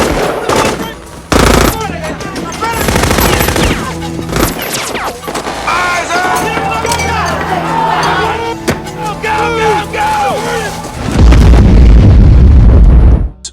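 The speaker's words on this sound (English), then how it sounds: "A fierce shootout erupts, forcing them to retreat before detonating the bombs." A film shootout erupts in rapid machine-gun bursts and sharp gunshots, loud and close, ending in a heavy, rumbling explosion as bombs detonate, with a voice briefly heard amid the chaos.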